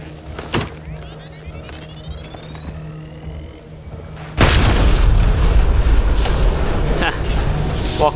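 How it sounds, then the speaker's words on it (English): In Mass Effect: Andromeda, a deep rumbling explosion boom hits suddenly after a quieter stretch of sweeping, rising tones, followed by sustained loud roaring debris noise, heavily processed and cinematic. "Walk away from explosion."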